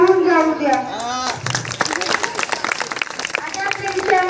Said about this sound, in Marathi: चला हवा येऊ द्या आणि जोरदार टाळ्या होऊन जाऊ द्या।